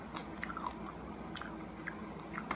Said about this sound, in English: homemade chips are the best kind of chips